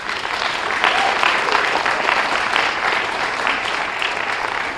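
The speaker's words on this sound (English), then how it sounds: "give a round of applause for David Hayward" Full, even applause from an audience at a speech night, dense and continuous for the whole stretch with no talking standing out.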